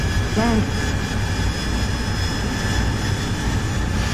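A steady, loud jet engine roar from a military aircraft in the DCS World flight simulator, a continuous broadband rush filling the cockpit, with a brief chirping warning tone near the start.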